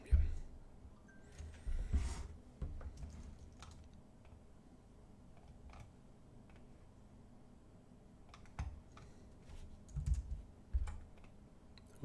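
Typing on a computer keyboard during a typing race, a run of quiet, scattered key clicks with a few louder thumps, faint against low room noise and some talk.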